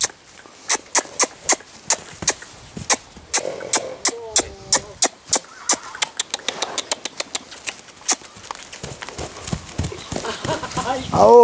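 A purebred Lusitano horse walks with crisp, evenly spaced hoof clip-clops, close and loud, with a brief whinny midway and a rumbling engine rising toward the end.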